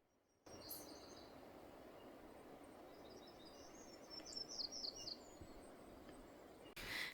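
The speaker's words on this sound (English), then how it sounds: "Listening to the birds." Faint birdsong chirps in short bursts over a quiet outdoor hiss, a few brief trills at a distance.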